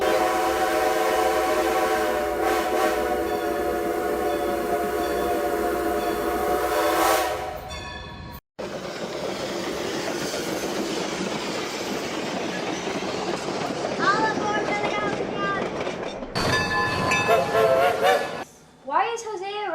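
A train rumbles along with rhythmic clatter and a sustained horn blast, followed by shifting rail noise and a brief whistle near the end.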